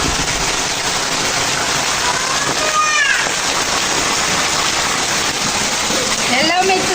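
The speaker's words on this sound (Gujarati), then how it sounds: "આજનો વરસાદ જોયો તમે બધાએ કેવો છે? અમારે વરસાદ ચાલુ છે." Rain pours steadily on a village, a loud, continuous wash of patter and splashing, with a voice and a few brief high chirps faintly audible under it.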